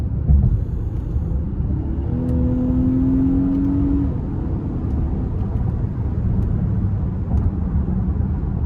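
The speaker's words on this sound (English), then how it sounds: "So pretty on point with a naturally aspirated V6, what I would expect." A 2023 Infiniti QX60 Sensory AWD's naturally aspirated 3.5-litre V6 pulls hard in sport mode, a loud steady rumble with a rising engine tone midway, heard from inside the cabin.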